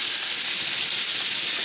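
Sausage sizzling on a new pre-seasoned cast iron grill pan, a loud steady hiss that stays even with no talk over it.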